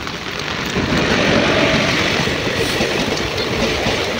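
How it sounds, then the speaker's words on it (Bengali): A train draws near, its loud rumbling rail noise swelling slightly and then holding steady, close and continuous, with wind in the background. "ওই দেখো ট্রেনের বাসির শব্দ শুনতে পাচ্ছ"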